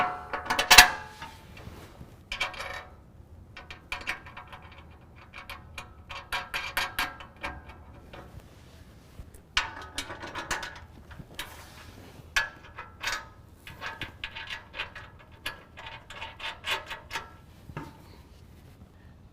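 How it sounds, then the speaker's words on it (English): Bolts on the skid plate of an N-Fab M-RDS Prerunner front bumper being tightened with a 7/32 Allen and a 14mm wrench: irregular metallic clicks and ratcheting ticks close by, in scattered bursts with brief pauses. "then we can go ahead and tighten down our skid plate."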